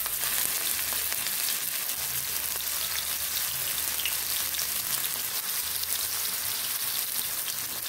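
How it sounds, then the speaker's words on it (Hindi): Mutton keema kebabs fry in hot oil with a dense, continuous crackling sizzle, close and even throughout, with no voices. "तेल गर्म हो चुका है। एक एक करके हम इसमें कबाब डाल देंगे।"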